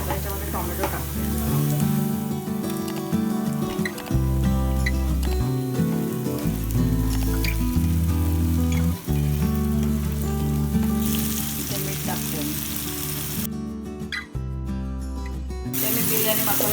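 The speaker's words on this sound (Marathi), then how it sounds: "तर कांदा लाल झालाय, मी आता याच्यामध्ये टोमॅटो टाकते" Tomatoes frying with reddened onions in a pan: a continuous crackling sizzle runs throughout, up close and steady, under a constant bed of background music.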